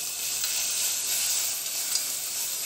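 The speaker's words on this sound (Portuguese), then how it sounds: "Primeiro você coloca uma pitada de óleo, o alho à vontade," Garlic fries in oil in a pan, making a constant bright hiss and sizzle that stays even and fairly loud for the whole stretch, with no voices.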